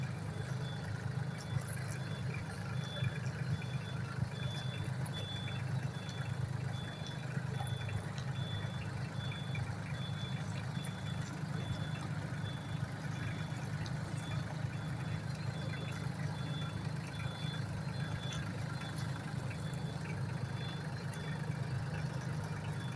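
A Solis 26 small tractor engine idles steadily for a long stretch while driving in third gear in reverse, with faint evenly spaced reverse beeps running through.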